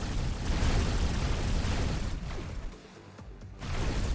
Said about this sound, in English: Explosion imminent. Boom.